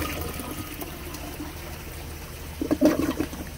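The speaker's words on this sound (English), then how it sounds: "if I use 2 inches of water, like I'm gonna do a little efficiency flush" A 1920 Eljer Andes toilet doing a partial-tank efficiency flush with about two inches of water. A soft, low trickle builds into a brief, weak rush of water near the end, heard close with no speech.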